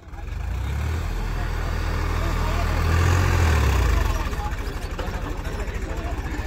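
Swaraj 742 XT tractor pulling an 8 ft rotavator with the lift fully down, its engine a steady loud low drone that shifts to a rougher pulsing beat near the end; a voice talks over it.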